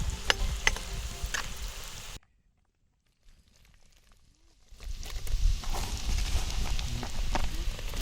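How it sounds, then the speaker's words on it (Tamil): Onions fry in oil for Malaysian sambal with a crackling sizzle and scattered pops, which drops to near silence midway before the frying noise returns even louder. "இது சம்பாளுக்கு வந்து வெங்காயத்தை பொரிச்சு நம்ம போடணும். வெங்காயம் நல்லா பொரிச்சிடும்."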